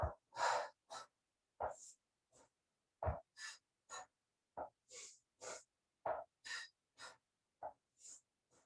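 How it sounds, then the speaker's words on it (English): Slow, deliberate breathing during a mat slider exercise, with about fifteen distinct breathy exhales and inhales in a steady rhythm, close and clear with silence between breaths and no talking. "Exhale, exhale, inhale, inhale."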